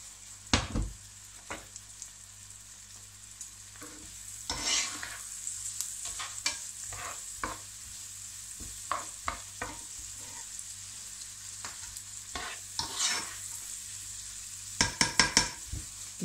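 Onions and peppers frying on high heat in a pan, a continuous bright sizzle broken by repeated clicks and scrapes of stirring, loud near the start and end.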